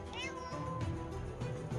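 A cat meows from the bottom of a well in a brief, faint cry that rises and falls, partly under people talking nearby.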